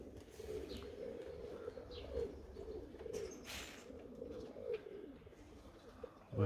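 Pigeons in a pigeon loft coo in low, rolling murmurs throughout, with occasional chirps and a brief flutter, soft and close, with no speech.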